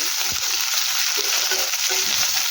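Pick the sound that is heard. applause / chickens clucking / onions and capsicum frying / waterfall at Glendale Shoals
onions and capsicum frying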